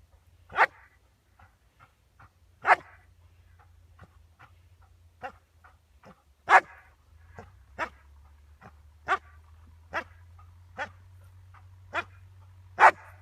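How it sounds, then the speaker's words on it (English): A dog barks repeatedly during a backchaining training session, giving sharp single barks spaced a second or two apart, some louder and some softer, against a quiet background with faint low hum. "So I waited then for a real bark, and as soon as she gave me a real one"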